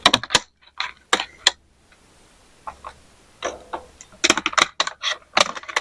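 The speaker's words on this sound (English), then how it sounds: "So what I'm going to do is I'm going to cut out the bottom." Cutting out the bottom of a can while preparing a hanging basket for a gerbera daisy: sharp, irregular clicks and snips come in bursts, close and fairly loud, with short pauses between them.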